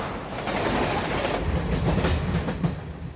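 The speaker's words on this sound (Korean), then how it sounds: "1970년 도쿄의 지하철." Subway train in 1970 Tokyo running in a film scene, with a loud continuous rumble, rhythmic wheel clatter and a faint high squeal early on.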